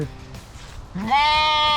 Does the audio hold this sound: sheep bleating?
yes